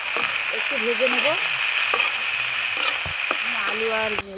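Bitter gourd and potato pieces fry in hot oil in a pan, giving a steady close sizzle throughout, broken by a few stirring scrapes and some talk over it.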